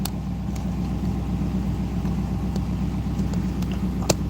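A classic Ford car engine runs at a low, steady idle, fairly faint and constant, with a few small clicks and knocks scattered over it and no talk.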